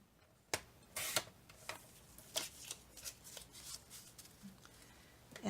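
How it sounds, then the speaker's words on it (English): Sheets of 2019 desk calendar paper are stacked and tapped together, giving a run of sharp, papery rustles and slaps at irregular intervals, close and fairly quiet. "Stack your papers up as neat as you can"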